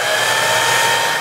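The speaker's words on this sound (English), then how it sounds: "you want to use your blow dryer to dry it" A blow dryer runs steadily and close up, drying the lace of a glued-down wig with a continuous airy whoosh and motor hum at even loudness for the whole moment.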